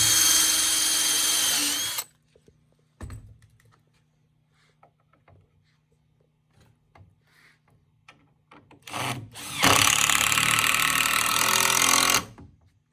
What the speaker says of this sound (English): Again, I'm just drilling the top piece.